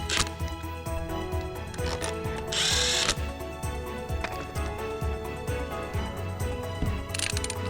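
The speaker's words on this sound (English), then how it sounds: "Tighten the bolts to the specified torque." Bolts being tightened on a pump housing with a power tool: repeated mechanical whirring and ratcheting bursts over a steady motor hum, with a louder buzzing burst midway and another near the end.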